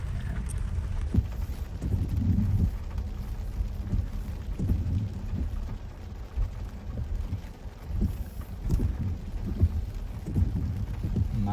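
Steady rain pours outdoors on a rainy day, a constant dense hiss with scattered heavier drops and low rumbles throughout, close and fairly loud, with no voices.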